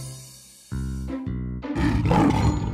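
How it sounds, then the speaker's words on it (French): A deep cartoon lion roar at an animal fair in a children's animated show rises suddenly, rumbling and sustained, building into a loud, rough, growling bellow that fills the rest of the clip. "C'est un lion."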